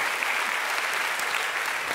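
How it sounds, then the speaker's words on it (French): Steady, dense audience applause on a French panel game show, loud and continuous throughout with no break. "Je pense qu'on peut applaudir le feat"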